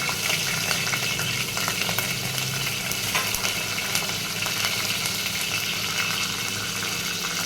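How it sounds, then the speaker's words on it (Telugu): Cumin seeds, a couple of green chilies and curry leaves crackling in two spoons of hot oil, a close, continuous sizzle with light spattering and occasional stirring throughout. "ఆయిల్ అయితే హీట్ ఎక్కిందండి కొంచెం జీలకర్ర ఒక రెండు పచ్చిమిర్చి కరివేపాకు అండి"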